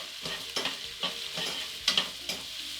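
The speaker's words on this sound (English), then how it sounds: "straight away into this pan, I'm going to add our large onion" A large onion dropped into a pan of hot vegetable oil while cooking a chicken curry, giving a steady sizzle broken by several scraping stirs of a utensil, close and moderately loud.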